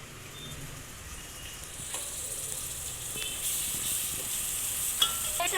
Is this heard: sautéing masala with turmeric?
yes